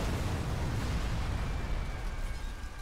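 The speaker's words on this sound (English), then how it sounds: "That explosion." Explosion in the Dragon Ball Z Kakarot video game, a dense, sustained rumbling roar that fills the low end and holds steady before fading slightly.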